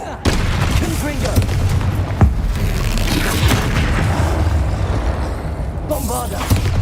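Confringo blasting spell in the game Hogwarts Legacy: a loud, dense booming explosion that rumbles continuously for several seconds, with cracking bursts and a voice speaking over it.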